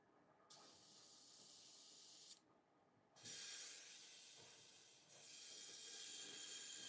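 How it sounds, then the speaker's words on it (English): Airbrush cleaner sprayed through an airbrush: a steady high hiss in two bursts, the first about two seconds long, then after a short pause a longer, louder spray lasting nearly four seconds, close and clear with no talk. "Now you want to run the airbrush cleaner through your airbrush because you want to remove all the stuff that is inside."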